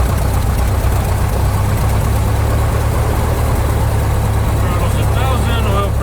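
Small aircraft piston engine idling steadily just after start-up, a loud, close, continuous low rumble with propeller drone filling the cabin, with pilot voices over it.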